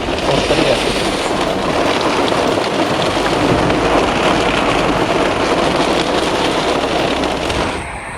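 Heavy thunderstorm rain pours down loudly and steadily, a dense close roar of drops hitting surfaces that eases slightly at the very end; no talking.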